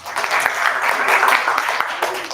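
Audience applause for the children champions closing a teen speaking showcase: a dense, steady roar of many hands clapping at once, sustained loudly from start to finish.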